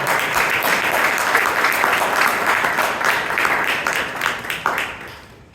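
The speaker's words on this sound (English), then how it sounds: "please give a huge round of applause for the evaluator and our speaker, Shreya." A room full of people applauding, dense steady clapping that holds for several seconds before thinning out and fading near the end.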